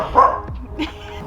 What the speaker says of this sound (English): I wouldn't have a little furry pest who's barking through my video